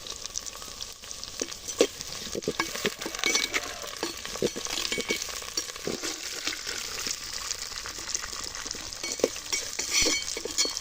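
Chopped bell pepper (capsicum) frying and sizzling steadily in a hot pan, stirred with a utensil that clinks and scrapes now and then, in a home kitchen where children cook a Sunday meal.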